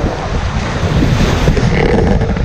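Surf and strong wind at Pink Beach in Sorsogon, Bicol make a dense, continuous roar, with wind buffeting the microphone close up and no voices.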